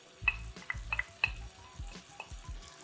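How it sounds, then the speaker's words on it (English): Garlic sizzles gently in melted butter in a pan, a soft crackling fry broken by a series of quick utensil scrapes and taps in an irregular rhythm, close and fairly quiet. "you're just sauteing the garlic until it goes fragrant"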